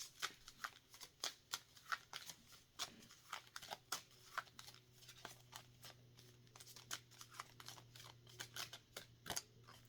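Cards are handled and drawn from a deck, a quiet run of rapid crisp flicks and riffling snaps at close range with a faint background hum.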